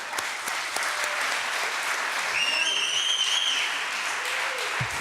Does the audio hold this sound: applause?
yes